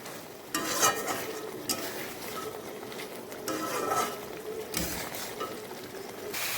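Chicken pieces cooking dry in a pan with a spoonful of ghee, giving soft sizzling and frying hiss with intermittent scraping and stirring clatter of a utensil against the pan, close and moderately loud.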